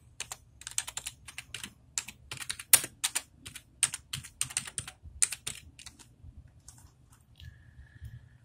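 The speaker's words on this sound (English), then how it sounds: "I'll type that in" Typing on a computer keyboard nearby, a quick irregular patter of crisp key clicks for about six seconds, then a few sparse taps before it falls quiet.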